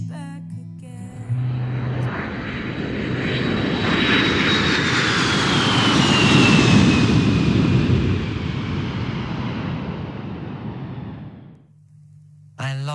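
Jet airliner engine roaring steadily in flight on a two-hour trip to Haiti, a loud broadband rush with a high whine that rises and swells through the middle before cutting off near the end.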